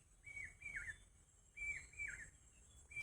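Faint, clear bird chirps repeat in short paired bursts against a quiet outdoor hush.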